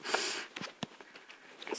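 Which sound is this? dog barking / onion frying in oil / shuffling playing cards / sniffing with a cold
sniffing with a cold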